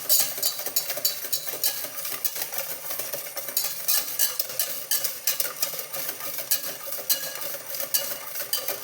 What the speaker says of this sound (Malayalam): ഇനി ഇതെല്ലാം കൂടെ നമുക്ക് നന്നായിട്ടൊന്ന് മിക്സ് ചെയ്യണം.